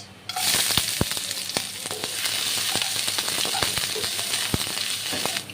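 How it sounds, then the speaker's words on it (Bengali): Chopped onion hits hot oil tempered with bay leaves, cloves, cinnamon and cardamom for chicken tehari, a sudden loud sizzle that settles into steady frying with sharp pops and crackles scattered throughout. "আর এখন দিয়ে দেব কুচানো পেঁয়াজ"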